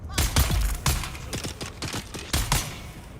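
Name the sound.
gunfire in Dune Awakening video game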